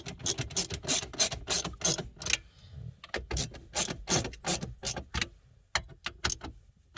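A hand ratchet clicks in quick rapid bursts while tightening the small bolts holding a factory radio head unit in a 2008-2009 Ford Taurus X, close and crisp with short pauses between strokes.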